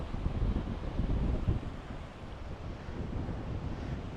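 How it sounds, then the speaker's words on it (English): Sea breeze gusts along a seafront coastal path near Lighthouse Beach, a loud low buffeting rumble of wind against the microphone with a soft surf-like wash beneath, steady throughout and without talking. "Oh, that breeze is gorgeous."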